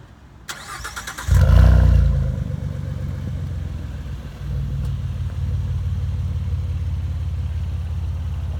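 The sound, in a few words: Mustang upgraded exhaust engine sound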